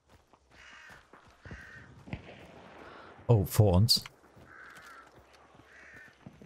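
A crow caws loudly in Hunt: Showdown 1896, a short burst of harsh calls standing out in the middle while people talk quietly before and after.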